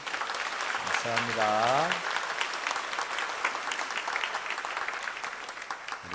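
A church congregation claps in sustained, dense applause for several seconds while someone speaks briefly over it.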